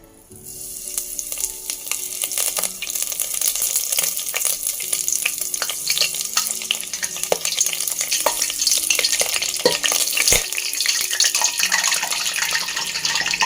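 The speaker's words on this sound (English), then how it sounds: "And you can start frying with a medium heat." Steady, loud sizzling of prawn fritters frying in hot oil over medium heat, with crackles and pops continuing throughout and no talking.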